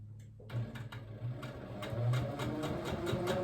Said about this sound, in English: we'll go to the machine and we'll quilt that out next